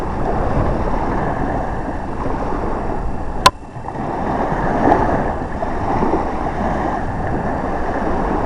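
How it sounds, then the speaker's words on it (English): Steady wash of engine and water noise from sailboats motoring on the water, with wind buffeting the microphone and one sharp click midway. "Not enough breeze today, I don't think, for the sail, so they're all under the motor."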